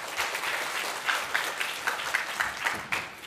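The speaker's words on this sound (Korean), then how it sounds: "박수 부탁드립니다." An audience at a PyCon Korea 2019 lightning talk session claps in a short, dense burst of applause, heard alone with no talking.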